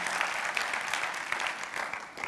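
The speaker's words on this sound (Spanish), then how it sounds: "Denle un aplauso al Señor" A church congregation claps for the Lord in a sustained burst, with steady overlapping claps at a moderate distance and no voice on top.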